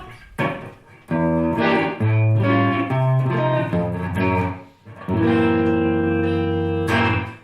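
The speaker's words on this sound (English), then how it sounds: "it's added a very subtle kind of space around the guitar signal that was already there." Electric guitar run through a TC Electronic Nova Reverb pedal on a small room setting rings out in sustained chords and single notes, close and fairly loud with a subtle ambient tail, no talking.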